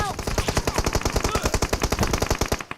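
Automatic gunfire from M416 Glacier and AKM Glacier rifles in a shooting video game hammers out in a rapid, unbroken burst of roughly thirty loud, evenly spaced shots.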